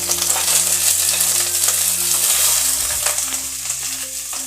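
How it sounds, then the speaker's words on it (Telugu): Green chillies frying in hot oil for a tomato coriander chutney, a steady close sizzle with crackling spits and occasional stirring, set over low sustained musical tones, no voices. "ఈ నూనె కాగిన తర్వాత ఈ పచ్చిమిర్చి వేసుకొని దోరగా వేయించుకోవాలి."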